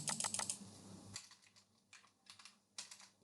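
Keys on a computer keyboard are tapped in a quick burst of close clicks, then a few scattered keystrokes follow after a pause, quiet and with no speech.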